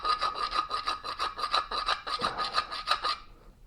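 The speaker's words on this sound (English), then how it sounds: "I haven't sharpened it" A double bit axe being sharpened during a restoration, a file rasping across the steel edge in a quick, steady rhythm of about a dozen close, loud strokes that stop just before the end.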